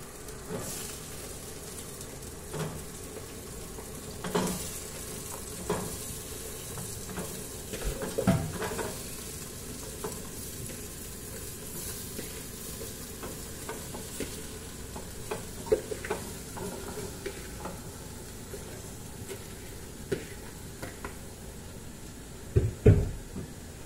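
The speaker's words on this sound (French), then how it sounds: "Là, on va les mettre les légumes pour les faire cuire." Chopped vegetables for a detox soup go into a hot pot and start cooking, giving a faint, steady sizzle broken by scattered clinks and stirring knocks, with no voices.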